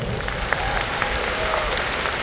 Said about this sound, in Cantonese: 都值得大家俾熱烈嘅掌聲佢哋